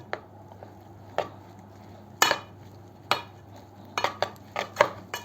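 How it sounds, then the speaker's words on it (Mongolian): Rice mixed with a spoonful of spicy seasoning being stirred in a pan, scattered metallic clinks and scrapes of a spoon against the pan, sparse at first then quicker, over a low steady hum. "Сайн хутгаж өгнө."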